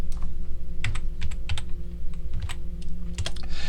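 Keys clatter on a computer keyboard in short, uneven taps over a steady low hum, close and fairly soft, with no talking.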